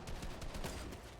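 Bolt-action sniper rifle gunfire in a video game, heard as a quick series of sharp cracks over a busy, noisy game mix.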